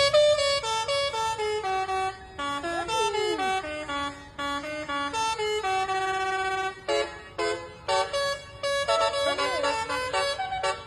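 A truck's telolet basuri musical horn plays a melodic, multi-toned tune, loud and sustained in stacked harmonic notes with short pauses and a few pitch slides, voices faintly audible underneath.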